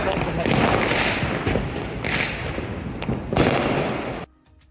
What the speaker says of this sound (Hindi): सब मिलकर पटाखे फोड़ने में लग गए